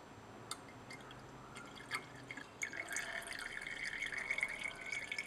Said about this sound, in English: And then decant the liquid again.